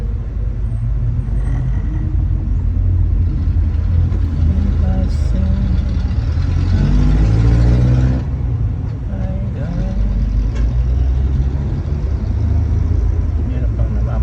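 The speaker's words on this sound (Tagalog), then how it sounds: "Look at the traffic." Heavy, slow road traffic by Antipolo Masinag Market in Manila: a dense, continuous low rumble of car and bus engines nearby, swelling as a vehicle passes close, with voices talking over it.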